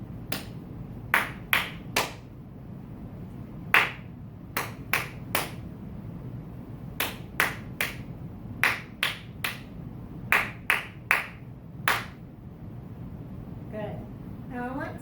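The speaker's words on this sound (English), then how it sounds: "Now I'm going to clap it all again, just clapping and not pointing." Sharp hand claps tapping out an uneven rhythm, single and grouped beats with short pauses between, close and clear against quiet background.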